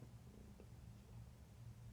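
A domestic cat purrs close up, a soft continuous rumbling throb with a steady pulsing rhythm, quiet but unbroken, with no talking.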